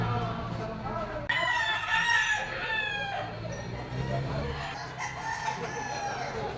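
A white bull stag rooster crows nearby, a clear drawn-out call with a fainter crow and clucking after it, over a quiet farmyard background.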